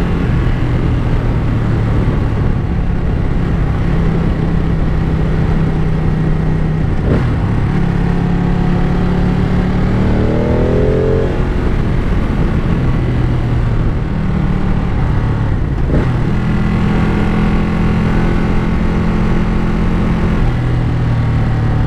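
A 2017 Ducati Panigale 959 sport motorcycle being ridden on the road, its engine droning loud and constant with a steady drone, pitch sweeping upward briefly midway as the revs climb, heavy wind rush underneath.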